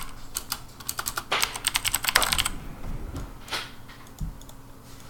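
Close, quick typing on a computer keyboard comes in dense bursts of clicking keystrokes, then slows to a few scattered key presses with short pauses between them.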